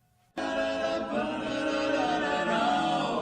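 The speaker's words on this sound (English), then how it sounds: "a barbershop quartet located right here in Muncie." Four-part harmony from a male barbershop quartet begins abruptly after a brief quiet moment, sustained chords sung steadily and fairly loud, close and clear.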